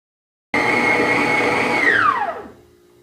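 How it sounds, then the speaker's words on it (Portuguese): Loud, steady motor whine of a stand mixer kneading panettone dough at speed 2 starts abruptly and holds, then winds down in pitch as the machine is switched off, leaving a low hum. "Vou continuar batendo aqui por mais 1 ou 2 minutinhos na velocidade 2"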